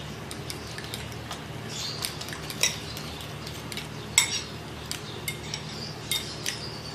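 A utensil stirring chicken tikka chunks into beaten egg batter, with soft scraping and intermittent light clinks against the bowl, quiet and steady over a low background hum.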